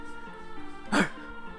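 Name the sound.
Bernese dog barking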